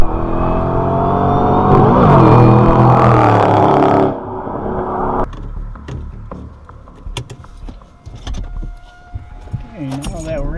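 A Ford Shelby GT500 on the road with new brake rotors: a loud, steady engine drone builds for about four seconds, then drops to a quieter rolling cabin hum with scattered clicks and rattles.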